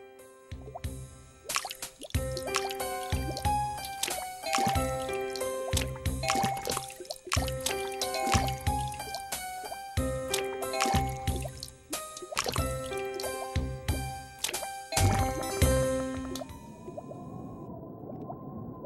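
Cartoonish water splashes from bobbing for apples in the Wii game I Spy: Spooky Mansion, rendered as repeated bursts of drips, plops and liquid gurgles in an irregular rhythm over tonal game chimes, ending in a softer swirling wash.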